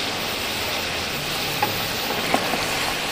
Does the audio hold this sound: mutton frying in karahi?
yes